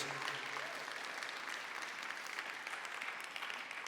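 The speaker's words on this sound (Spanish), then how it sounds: "Demos un aplauso al Señor por la vida de ellos" A church congregation claps for two pastors during a sermon, a steady, dense wash of many hands that stays fairly soft and distant throughout.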